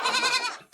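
A goat bleats once in a goat shed, a short, close, wavering cry in a quiet setting.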